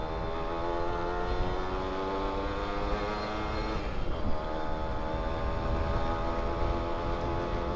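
A Yamaha F1ZR two-stroke motorcycle engine while riding, a steady droning tone with rising and falling pitch and a brief swell midway, heard close and alone without talk.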